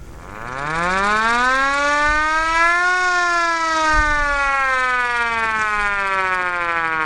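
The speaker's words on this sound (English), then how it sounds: "Air raid siren." A loud air raid siren, shown at an estate auction preview, winds up into a long, steady wail, holding its droning pitch and sagging slightly toward the end.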